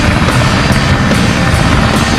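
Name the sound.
plane flying in the video game Sonic Adventure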